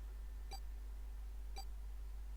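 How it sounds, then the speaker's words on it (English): Two short, faint electronic beeps about a second apart sound from a bracelet in the video game 999, alone over quiet background hiss. "His bracelet gave a cold electronic beep."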